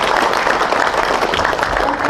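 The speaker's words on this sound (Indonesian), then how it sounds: "kita tepuk tangan semuanya kali." Group applause from participants at an Indonesian volunteer training event, a steady dense wash of many hands clapping at once, loud and continuous throughout with no pauses.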